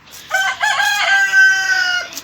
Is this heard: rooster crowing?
yes